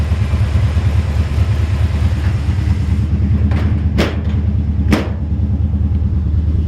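A 1953 Chevrolet 5-window pickup truck engine idles with a deep, steady rumble, loud and close, with a couple of sharp clicks near the end.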